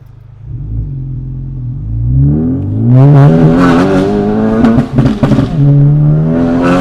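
A loud, raspy Honda Civic Type R (FL5) engine with a catless downpipe starts low and climbs into throaty revving with crackling bursts, close by and rumbling heavily.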